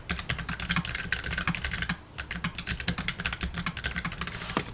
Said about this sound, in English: I really like the way when you type on mechanic keyboard